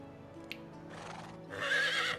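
A horse in Medieval Dynasty gives a loud, shrill neigh near the end, preceded by a faint snort and soft background rustling.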